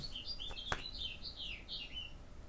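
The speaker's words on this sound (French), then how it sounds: "Entendez-vous les oiseaux?" High, chirping birdsong trills continuously over a faint outdoor background, with one brief sharp click partway through.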